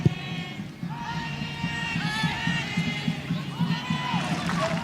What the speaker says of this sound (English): As always, a lively crowd in Laval.